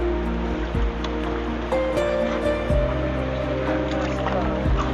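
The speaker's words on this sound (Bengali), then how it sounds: "হ্যাঁ, গাড়ির রাস্তায় এখন নৌকা চলে।" A boat moves through floodwater covering a road near the Sangu river, giving a steady droning hum with water sloshing and periodic knocks, while people talk nearby.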